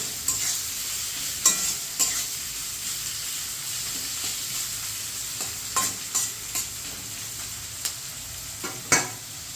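Onions fry in oil left over from frying pointed gourd, a soft continuous sizzle with scattered sharp clicks and scrapes from a stirring spoon against the pan, close and moderately quiet.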